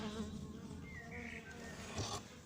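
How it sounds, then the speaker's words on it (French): A close, dense buzzing of many bees in a hive being moved near Fontainebleau, a steady droning hum with individual bees whining louder as they pass near. "il y a des abeilles quand même"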